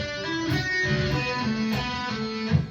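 A quick guitar lead phrase from a song's solo, notes tumbling over a steady backing with drums, bright and continuous.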